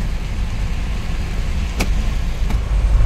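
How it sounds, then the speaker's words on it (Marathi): Steady low rumble of road traffic nearby in Bhiwandi, broken by a couple of brief sharp clicks. "अरे रे ट्रॅफिक ट्रॅफिक मिळालेलं आहे आता आपल्याला"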